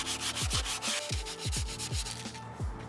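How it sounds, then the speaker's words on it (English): Coarse 60 grit sandpaper scrapes steadily and loudly against an office chair part in quick back-and-forth strokes, close to the listener, with no talking. "So I'm cleaning these up with a 60 grit sandpaper."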